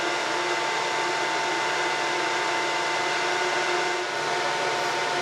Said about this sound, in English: my purifier should start going when this starts